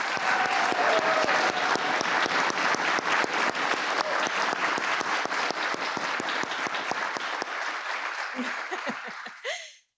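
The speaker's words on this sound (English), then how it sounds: "Can we give her another round of applause?" An audience at a ceremony honoring children of military families gives sustained, dense applause with light laughter mixed in, tapering off and stopping abruptly at the end.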